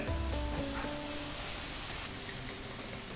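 Green chillies frying in mustard oil, a loud, dense and steady hiss of sizzling close by, with no talk.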